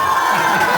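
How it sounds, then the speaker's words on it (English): Children in an audience at a water-themed magic show cheer and shout in a short, dense burst of crowd noise with applause mixed in. "Thank you for that thunderous applause."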